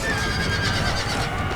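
A cavalry horse whinnies during a battle in the video game Empire: Total War, a steady, continuous neigh over dense battle noise, with no clear speech.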